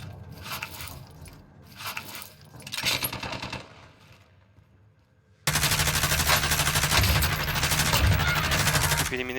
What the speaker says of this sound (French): Il tire dessus. Il tire à travers le mur.